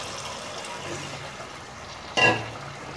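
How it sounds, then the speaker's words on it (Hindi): Water goes into frying chicken curry, a soft sizzling background that erupts into a brief loud splash and hiss near the end. "इसमें हम अब पानी ऐड करेंगे।"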